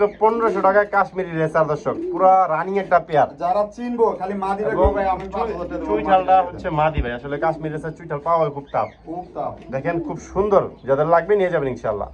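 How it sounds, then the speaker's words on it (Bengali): A pair of Baghdadi homa pigeons cooing in a cage, soft rhythmic coos mixed beneath someone talking almost continuously. "দর্শক এখানে দেখতেছেন এক জোড়া বাগদাদি হোমা"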